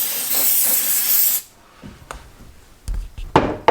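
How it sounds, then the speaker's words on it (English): A steady, loud aerosol hiss sprays into a cabinet corner for over a second and cuts off, followed by a few quiet knocks and light handling noises. "put the spray on in the corner here"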